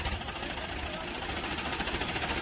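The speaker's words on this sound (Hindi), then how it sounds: "सदर की साइड में फार्म ट्रक 45 फंसा हुआ है" A Farmtrac 45 tractor stuck in mud runs its engine in a steady, rough, low rumble that churns on without a break, fairly near, with no clear talking over it.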